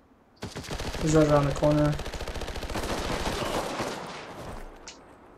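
Rapid automatic gunfire in a video game, a sustained, close stream of shots that goes on for several seconds while a voice talks over the start.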